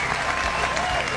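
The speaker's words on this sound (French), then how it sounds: "Est-ce que déjà on peut applaudir très fort, s'il vous plaît" Audience at a live event applauding loudly, a dense continuous wash of clapping with crowd noise, steady and full throughout the brief moment.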